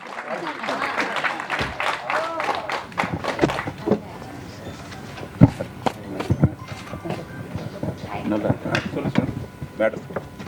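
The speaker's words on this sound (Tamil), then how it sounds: "அவருக்கு எல்லாரும் நல்ல பலத்த கைத்தட்டல் நம்ம கொடுக்கலாம்" Scattered applause honours Mr. Ganesh at a special film screening for a directors' association, uneven claps and sharp knocks popping irregularly while voices talk in the background.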